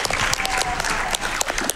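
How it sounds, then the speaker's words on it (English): Applause from a speedrun marathon audience at a Star Fox 64 charity event, steady and loud for nearly two seconds with dense overlapping claps filling the room. "Yeah, we can clap for that."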